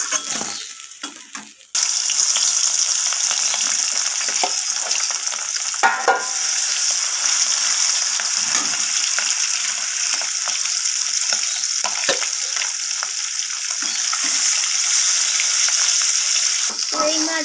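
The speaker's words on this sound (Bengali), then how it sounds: "এরপর আমি তেলের মধ্যে বাকি মাছগুলো এইভাবে ভেজে নেব" Pieces of rohu fish sizzle and crackle steadily in hot oil in a pan, a loud continuous frying hiss with occasional spatters and soft utensil knocks.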